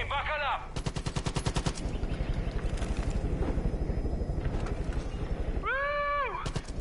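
Rapid automatic gunfire and bursts in Far Cry New Dawn, loud rattling volleys with a helicopter-like mechanical drone beneath and short vocal exclamations at the start and end.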